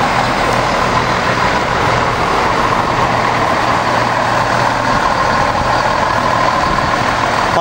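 A Class 168 diesel train rolls past at Princes Risborough, a steady, loud engine drone and rumble holding evenly for several seconds with no break.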